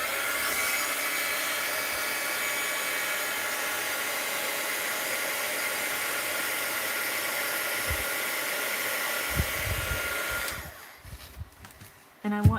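A heat tool blows hot air steadily and loudly for about ten seconds while painted envelopes and pet portraits dry, then cuts off, leaving a few faint knocks and handling sounds.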